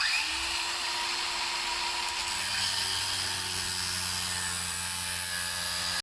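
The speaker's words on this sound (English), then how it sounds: "So I'm just going to cut this with my grinder." An angle grinder cuts through plastic drainage pipe being fitted for a home extension, giving a steady, close, high-pitched whine that holds unbroken for several seconds.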